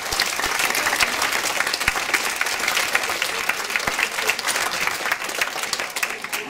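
A large crowd applauds steadily at a Chinese seniors' lunch in Amstelveen, a dense, even clatter of many hands that holds throughout with no talk over it.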